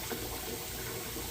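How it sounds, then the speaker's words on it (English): Cold tap water runs steadily into a pot of freshly boiled eggs, a continuous soft splashing rush that carries on with no pause. "So we're going to let this cold water run in here and cool everything down."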